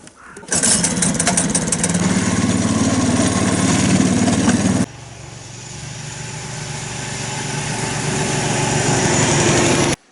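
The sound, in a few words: snowmobile engine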